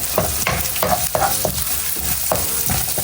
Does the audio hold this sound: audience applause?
no